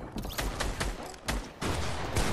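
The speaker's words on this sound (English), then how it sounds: "I'm getting shot from two sides" Gunfire in the Fortnite video game rattles in dense, repeated bursts from more than one direction, loud and continuous with short gaps and no speech.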